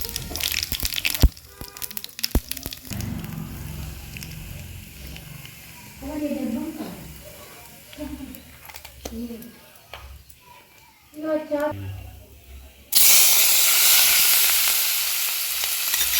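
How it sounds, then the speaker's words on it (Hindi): Tadka tempering for baingan bharta sizzles in a hot pan, a broad crackling hiss that swells loudly near the end, with scattered stirring clatter and someone speaking over parts of it. "इसमें हम तड़का लगा देते हैं।"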